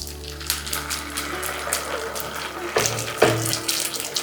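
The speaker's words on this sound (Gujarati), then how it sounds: "અને હવે સીધું જ આપણે નાખી દઈશું આપણું બેટર" Farali handvo batter poured into a pan, a steady wet running pour with a couple of heavier splashes near the end, close and moderately loud.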